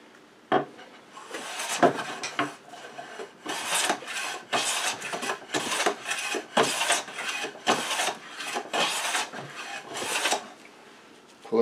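Restored Stanley No. 5 hand plane taking full-thickness shavings from wood, a series of loud, close rasping strokes in irregular rhythm, each a rough swish, with brief pauses between passes.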